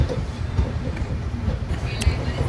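A Konkan Railway train pulling out of Kankavli station toward Mumbai gives a steady low rumble of wheels and carriages, with faint clatter rising over it.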